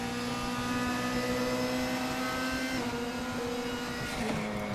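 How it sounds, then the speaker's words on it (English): Race car engine drone from a sim racing broadcast, steady and loud with a sustained pitch and a brief shift near the end as the DRS flap opens in the background. "You can hear the DRS activating in the background."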